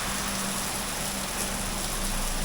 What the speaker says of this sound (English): There's some pretty good rain coming down.